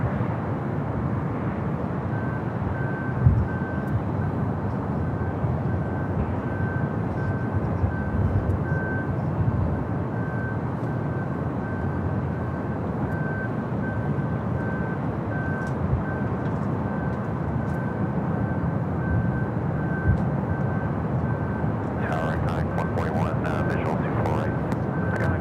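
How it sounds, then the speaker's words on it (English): A Frontier jet departs Los Angeles International Airport, a broad steady engine roar held at a constant level, with a thin tone running alongside and a brief burst of higher noise near the end. "North departure, Frontier Flight 3823."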